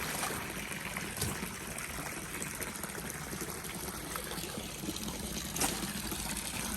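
Water churns and splashes steadily in a 1500-gallon fish tank, a broad continuous rushing with a couple of sharper sloshes, close by and moderately loud.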